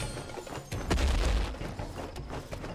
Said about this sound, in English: The bomb bounces off the walls.